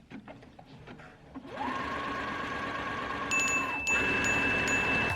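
Sewing machine making a test run on a new piece of fabric, its motor whirring up into a steady rapid stitching hum for several seconds, close by, with faint high electronic tones near the end.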